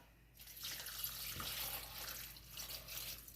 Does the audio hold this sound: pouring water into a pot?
yes